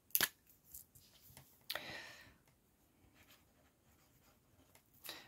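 A brush pen scrapes across a sheet of paper in a few short, crisp strokes separated by pauses, close and fairly quiet, with no speech.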